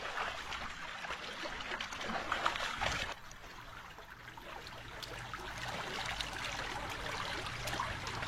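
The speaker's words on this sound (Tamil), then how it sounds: "தண்ணி போகுது மக்களே, சந்தோஷம்." Mountain stream water flows in a steady, continuous rush, with a brief louder surge near the start, heard alone with no voices.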